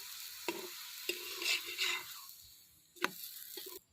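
Spinach paratha fries in a pan outdoors, with a soft sizzle under intermittent stirring and scraping clanks, fairly quiet and close.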